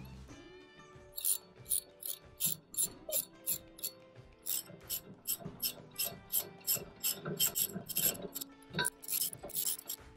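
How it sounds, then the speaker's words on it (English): Rapid bursts of ratcheting clicks from a torque wrench tightening nuts on a Woodland Mills WC46 wood chipper, repeating in a steady rhythm over a faint tonal background. "Now I'll add the click click sound effect later on so you can hear that torque up."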